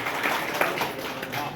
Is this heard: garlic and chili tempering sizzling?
no